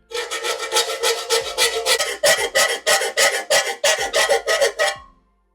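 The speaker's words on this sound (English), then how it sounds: "I'm going to warn you, it's a really annoying sound. It's like nails on a chalkboard." Round file rasping across metal during a repair on a 1959 Chevrolet Impala, about twenty close, loud back-and-forth strokes in a steady rhythm that end abruptly, with no talking.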